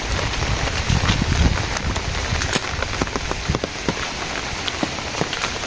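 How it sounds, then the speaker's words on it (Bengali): Steady rain pours down in a village, a continuous dense patter on surfaces with scattered sharper drips, close and even throughout, with no voices. "বৃষ্টি থামছেই না, চলছে বৃষ্টি এক তালে।"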